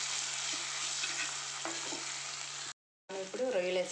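Drumstick pieces, tomato and ginger garlic paste cook in a pan with a soft, even sizzle and light stirring, faint and close; after a brief silence the frying resumes slightly louder.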